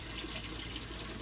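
Hot water pours from a household tap, fed through a Rheem water softener and a tankless water heater, making a loud, steady, unbroken rushing hiss throughout.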